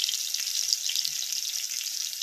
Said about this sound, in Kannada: ಸ್ವಲ್ಪ ಫ್ರೈ ಆಗಬೇಕು ಈರುಳ್ಳಿ. ನೋಡಿ, ಈ ಥರ ಫ್ರೈ ಆಗಬೇಕು ಸ್ವಲ್ಪ.